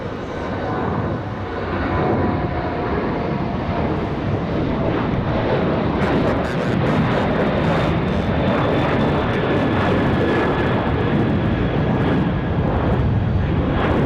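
Airplane landing at Raleigh Durham airport at night, its engines a loud, continuous roar that swells and holds close by for the whole stretch, with no voices over it.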